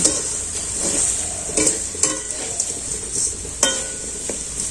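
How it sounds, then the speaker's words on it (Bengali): Raw mango pickle with sugar is stirred in a pan, a spoon scraping and knocking the metal in irregular strokes over a soft, continuous sizzle. "এবার এটাকে আমি নাড়তে থাকবো"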